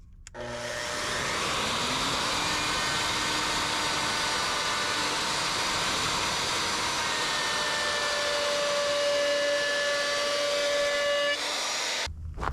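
A power tool rounds over the inside edge of a wooden subwoofer box, a steady loud high whirring roar that starts up, runs for about ten seconds without letup and then cuts off.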